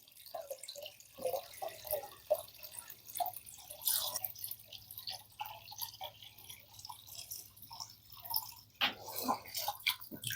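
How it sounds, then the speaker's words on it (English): Water change on an aquascape aquarium tank, with close irregular drips, trickles and splashes of water moving in and out, fairly quiet and continuous with scattered sharper splashes. "that is quite a big water change"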